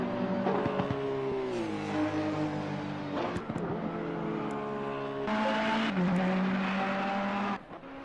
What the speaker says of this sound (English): And the number 5 Ferrari getting them laps in, crossing that start-finish line with Alexei